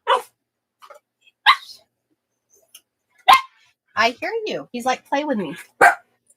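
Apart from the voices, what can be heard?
dog barking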